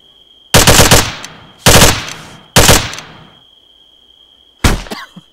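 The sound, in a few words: gunfire while crouching, from video game Arma 3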